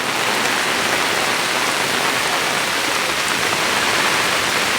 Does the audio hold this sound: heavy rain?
yes